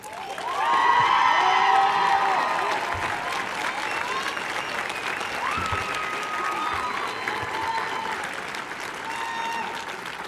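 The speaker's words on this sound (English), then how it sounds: "you applauded all over my lines there" An audience at a law school commencement ceremony breaks into sustained applause, a dense wash of clapping that swells early, then holds steady with scattered cheers over about ten seconds.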